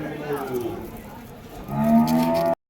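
A cow at an open cattle market in Vaniyambadi lets out a long, loud, close moo with a rising tone near the end, over faint crowd noise.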